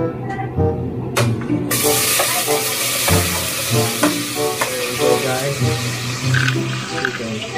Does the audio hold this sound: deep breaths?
no